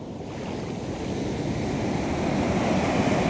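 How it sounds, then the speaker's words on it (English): Ocean surf breaking on an Arabian Sea beach below the south cliff at Varkala, a steady broadband roar of waves that swells gradually louder, with wind buffeting the microphone and no voices. "I can go till where the waves break"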